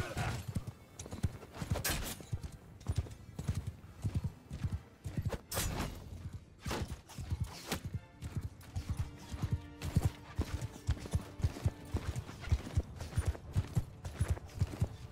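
Horses gallop across a battlefield in Mount & Blade II: Bannerlord, a dense, continuous drumming of many hooves with a horse whinnying now and then, loud and close throughout.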